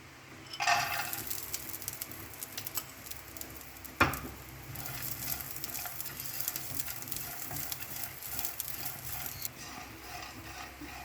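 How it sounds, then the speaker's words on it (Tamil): Grated coconut roasts in a pan with a soft, faint crackle and sizzle, joined by scraping stirs and one sharper clack a few seconds in. "அடுத்து தேங்காவை வறுத்துக்கலாம்."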